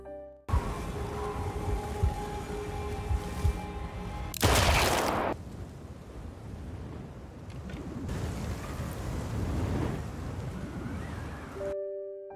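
A sharp, loud gunshot bursts out once partway through, in a war film about a Soviet soldier, set against quieter rumbling background sound and music before and after.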